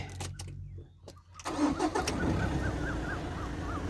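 A car engine starting: a few clicks and a brief crank, then the motor catches and settles into a steady mid-pitched idle, close and moderately loud, with no talking.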